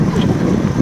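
Strong dust-storm wind roars and buffets against the microphone while riding a motorbike through a village, a loud continuous rumbling gust that fills the whole short moment, with no voices.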